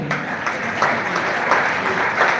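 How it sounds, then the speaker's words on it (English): Steady applause from an audience at an anniversary event marking the 1929 Aba market women's riot, a continuous mid-level patter of clapping with no voices over it. "he deserves some applause"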